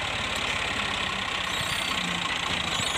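A tractor engine idles steadily nearby with a low knocking throb while a trolley is loaded, continuous and fairly loud throughout.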